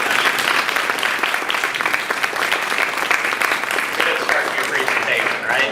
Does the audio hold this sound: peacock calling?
no